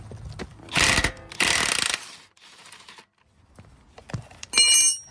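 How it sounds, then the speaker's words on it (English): Wrench work on a 21 mm suspension bolt of a Cadillac XTS rear control arm, giving two loud bursts of metallic ratcheting and scraping, then quieter clicks and a final sharp metallic rattle, close by with no talk. "we got a 21 millimeter and we're going to remove this bolt here. We'll go ahead and put a wrench on it."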